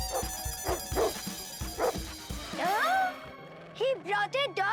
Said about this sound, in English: He brought a dog even bigger than our dog.